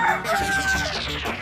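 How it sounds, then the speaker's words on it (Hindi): A rooster crows, a loud, close, drawn-out call with a harsh wavering tone that carries for over a second. "ये मेरे कान बज रहे हैं कि कहीं सच में मुर्गा बोल रहा है।"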